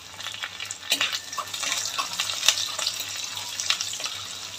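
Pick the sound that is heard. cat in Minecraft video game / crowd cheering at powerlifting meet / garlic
garlic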